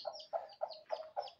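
Hen, an aseel chicken with newly hatched chicks, clucking in five evenly spaced, moderately loud calls, close by and with no talking.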